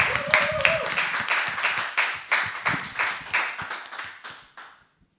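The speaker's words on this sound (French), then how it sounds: "On l'applaudit" Studio audience claps for Clotilde as she takes the stage at a live show, a dense burst of handclaps that thins into scattered, uneven claps and fades out over about five seconds.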